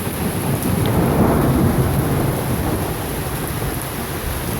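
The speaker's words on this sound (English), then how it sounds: "There's the thunder." Thunder rolling during a hailstorm, a broad low rumble over the steady hiss of heavy precipitation, swelling early and then settling into a constant wash.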